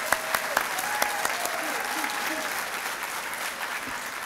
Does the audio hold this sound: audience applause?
yes